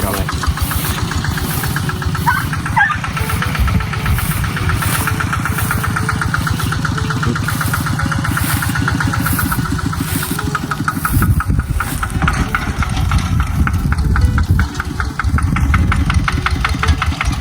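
A farm tractor engine runs during a rice harvest in the fields. It makes a loud, close, steady idling chug with a knocking rhythm that continues throughout, and voices are heard at times.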